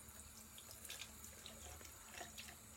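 Tap water runs steadily into a sink while a face is rinsed, a close, continuous splashing stream with small irregular splatters and no talking.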